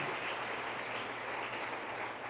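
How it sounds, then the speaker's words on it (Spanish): Sustained applause from a church congregation during a sermon, a continuous even roar of many clapping hands that stays steady and fairly loud for the whole stretch. "démosle un aplauso al Señor"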